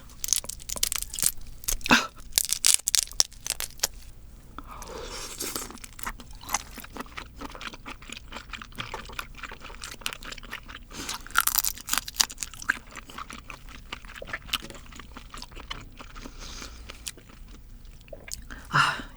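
Fresh, raw Dokdo shrimp eaten whole in the shell, giving close, loud wet crunches and chewing in dense bursts with brief shell-tearing crackles, and no talk.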